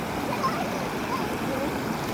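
The Balire River in Leyte flows in a steady, close rushing wash of water that stays even throughout.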